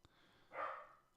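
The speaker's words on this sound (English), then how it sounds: "I don't know what he's barking at." A dog gives one short, muffled bark from some distance away, faint against a quiet indoor background.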